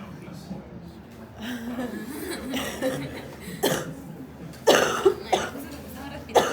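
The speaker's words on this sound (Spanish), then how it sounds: "La señora está tosiendo" Several sharp coughs from a woman in bursts, some close together, mixed with throat clearing and murmured talk, fairly near.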